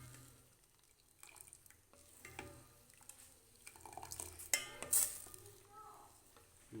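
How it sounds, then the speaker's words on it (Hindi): Milk being stirred in a pot on the stove for creamy custard: soft intermittent scraping and stirring clatter with faint liquid sloshes and a couple of sharper spoon knocks, close and quiet, no talk. "हिलाते जाएं जब तक ये दूध पके ना"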